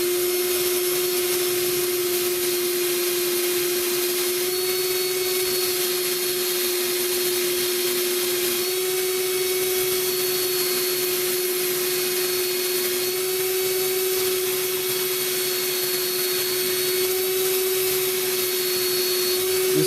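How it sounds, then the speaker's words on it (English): A power drill rounds off the edges of a USMC Ka-bar scout carry sheath, giving a steady, loud, high whine that runs unbroken and alone for about twenty seconds. "And you just take a drill."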